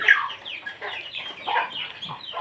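Breeder chickens cluck and murmur close by in a busy series of short, overlapping calls.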